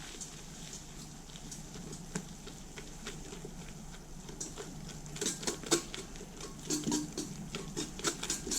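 Soft butter being mixed into sweet yeast dough, with quiet sticky stirring and light tapping against the bowl that grow busier and more rhythmic toward the end, heard close up with no talk.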